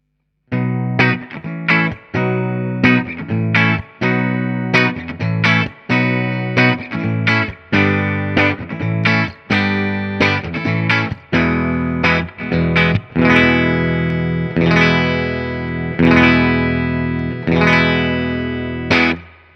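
Electric guitar with heavy distortion, played through several Boss pedals with JFET-type buffers, plays rhythmic chopped chords in steady bursts, then sustains longer ringing chords toward the end, loud and close.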